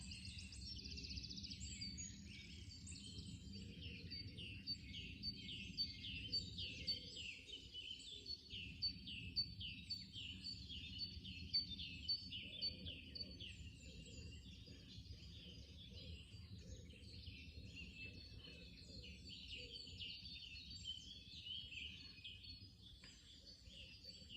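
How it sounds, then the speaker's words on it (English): Many birds singing together in a busy spring dawn chorus at a woodland log cabin, overlapping chirps and trills at moderate distance over a low steady background hum. "The birdsong continued to grow into the full daylight of the morning."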